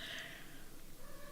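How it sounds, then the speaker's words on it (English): A faint, drawn-out meow from a cat about 6 to 8 months old in the background, quiet and distant, fading over about a second. "if you hear meowing in the background, I believe that is the new cat himself."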